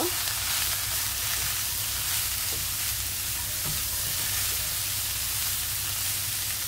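Potato and carrot frying in a pan for vegetable roll filling, a continuous close sizzle with occasional scraping stirs of a spoon against the pan.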